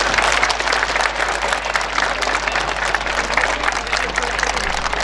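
Steady, dense applause from an audience at a Buddhist sermon gathering, loud and continuous throughout with no pauses and no clear voices over it.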